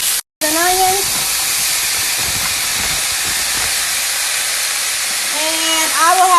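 Broccoli and onion sizzle in hot oil in a pan for a veggie stir fry, a steady loud hiss that runs throughout, with a voice talking briefly over it near the start and end.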